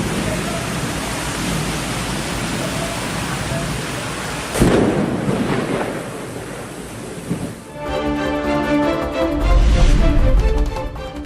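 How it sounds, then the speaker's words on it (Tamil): Heavy rain pours in a dense, constant hiss during a storm in Taiwan, broken by a sharp nearby thunderclap and then deep rolling thunder rumbling toward the end. "தைவான் நாட்டில் புயல் கனமழை."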